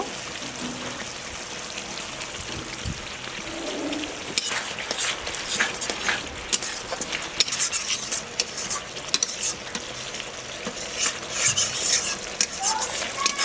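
Spice masala frying in oil in a pan for potol malaikari, with a steady sizzle under repeated spatula stirring and scraping and occasional metallic clinks.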